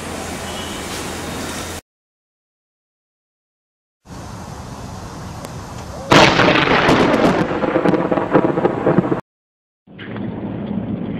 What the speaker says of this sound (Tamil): மின்னல் அடிக்குது, இடி வேற இடிச்சிட்டு இருக்கு.